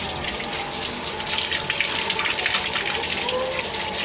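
Tap water runs in a steady, close gushing stream while a keris blade is rinsed clean, a dense continuous splash with no pauses.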